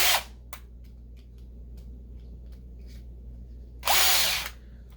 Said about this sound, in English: So let me get out my drill, see what I've got.